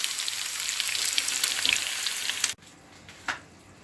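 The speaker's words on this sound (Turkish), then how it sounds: "Şimdi kızartmaya geçiyorum. Yağım kızdı. Şimdi ciğerlerimi tavamın içerisine alıyorum." Loud, steady sizzling of flour-coated Albanian-style liver frying in hot oil in a pan, a dense crackle that cuts off abruptly, leaving quieter hiss and one brief spatter.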